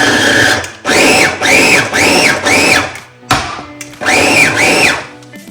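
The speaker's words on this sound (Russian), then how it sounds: "можно перебить так, чтобы получилась более такая однородная масса, без больших кусочков" A kitchen blender purees fermented bell pepper salsa in loud, close bursts, its motor whining and pitching up and down through several pulses separated by brief pauses.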